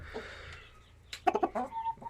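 Chickens and chicks cluck while being fed, with soft scattered calls at first, then a loud burst of several quick clucks and peeps up close.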